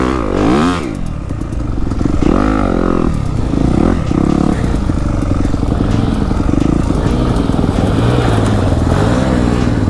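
A Can-Am 1000R four-wheeler engine revs and drones continuously through donuts, loud and close, its pitch rising and falling as it circles, with clattering and scraping from the tires and ground.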